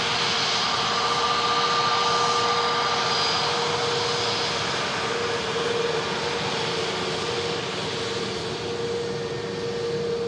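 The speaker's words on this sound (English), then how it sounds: "This EasyJet coming in from Copenhagen, going just over an hour and a half of flight time." EasyJet airliner taxiing, its jet engines giving a steady, loud roar with a faint high-pitched whine held throughout, no voices.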